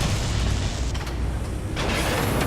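A radome being destroyed in the Metal Gear Solid video game, a dense, loud, rumbling roar of mechanical crashing and explosion noise lasting the whole moment, with a brighter burst toward the end.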